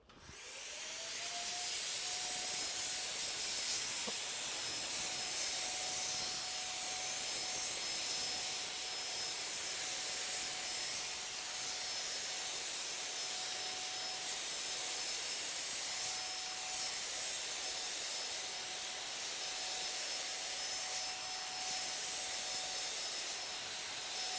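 An Ultimate DipSprayer paint sprayer runs without a break while a panel is sprayed, giving a loud, even hiss and whoosh with a steady motor whine underneath and no talking.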